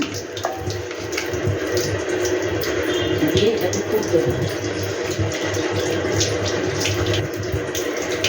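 Water pours into a rohu fish curry with poppy seed, a steady, close rushing splash that holds at an even loudness from start to end.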